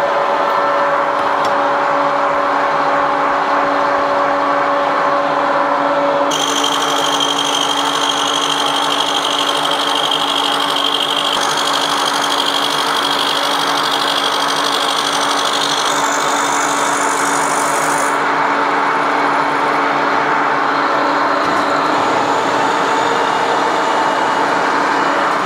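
A machine tool cutting soft material for a carburettor part runs with a steady, loud mechanical hum and a high whine whose pitch shifts partway through, with no talking.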